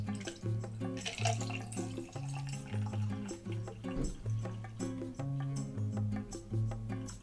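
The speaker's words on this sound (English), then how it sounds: "I'm just going to pour some of the cold brew in there" Cold brew coffee pours steadily into a mason jar of ice, a continuous soft trickle and splash heard at a fairly quiet level under a low background tone.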